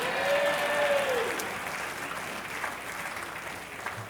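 A comedy audience applauds comedian Darrell Dawson at a live stand-up debate show, a dense, steady wash of clapping from a full room that stays strong throughout.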